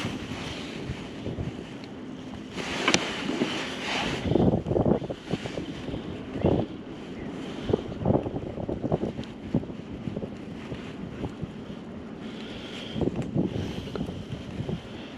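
Strong gusting wind buffets a Hobie 2020 Outback fishing kayak on a river, rough rumbling microphone wind with splashing water and occasional knocks, steady and close throughout.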